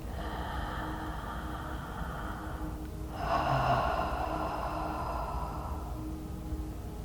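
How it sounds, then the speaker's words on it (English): Slow, deep breathing during a guided healing meditation. A steady drawn-out breath is followed by a fuller, airy inhale and exhale, soft and close over a faint background hiss. "Another nice deep breath,"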